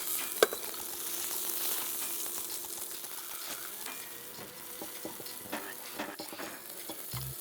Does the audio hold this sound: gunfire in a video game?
no